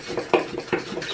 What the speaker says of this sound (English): Scrape the sides.